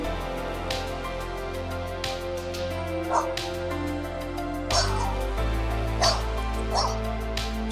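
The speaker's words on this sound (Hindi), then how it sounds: "कुत्ते को गाड़ी में रख दे के गई ना" A dog shut inside a car yips and barks in short bursts, with several sharp calls scattered over a steady low engine or road hum, fairly close and moderately loud.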